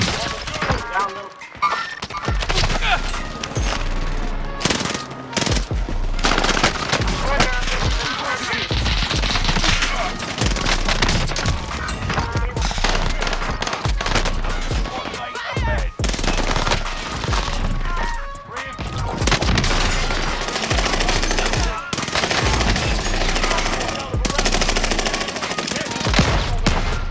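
Rapid automatic gunfire and single shots in Call of Duty Modern Warfare 2 multiplayer, loud and nearly continuous with bursts, impacts and brief gaps, while a player talks over the action.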